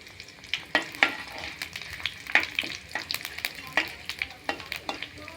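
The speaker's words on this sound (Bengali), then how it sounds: "এবার ফোড়নে দেব গোটা লঙ্কা 2টো এবং তেজপাতা, কালো জিরে, মৌরি এবং মেথি। এটাকে হালকা নেড়ে নেব কড়ায়।" Two whole dried chilies, bay leaf, nigella, fennel and fenugreek seeds crackling in hot oil in a wok, rapid popping and sizzling with sharp spatula scrapes, close and lively, no voices.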